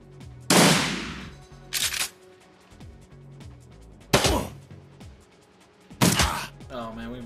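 Gunfire in the tactical role-playing game Shadowrun Returns, with four loud, separate blasts spaced a second or two apart, each followed by a decaying rumble over a quiet background.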